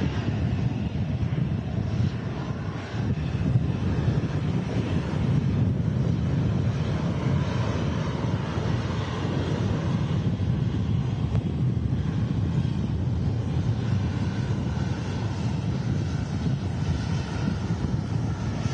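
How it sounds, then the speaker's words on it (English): A Ryanair Boeing 737 Max landing at Manchester Airport after arriving from Dublin, in stormy conditions: a steady, loud roar of jet engines blended with heavy wind buffeting the microphone, continuous with no clear peaks. "that Ryanair Max touching down from Dublin."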